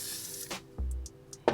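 Got To Be Glued hair spray misted onto a rat tail comb: a short, close hiss of aerosol, followed by faint handling clicks.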